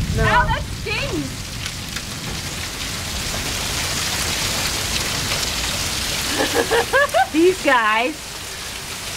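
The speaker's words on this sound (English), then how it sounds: "There's hail coming down." Hailstorm in St. Louis, a dense steady patter of hail hitting surfaces throughout, while people shout and talk over it and a short burst of laughter rises near the end.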